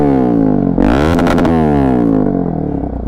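A modified Bajaj Pulsar NS200 motorcycle with a loud aftermarket exhaust revs close by, its engine note rising in a sharp burst of throttle and then settling back to a rumbling idle.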